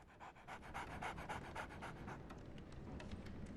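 Toby, a basset dog in Sherlock Holmes: The Awakened video game, pants in a quick, steady rhythm, faint and close over a low rumbling background.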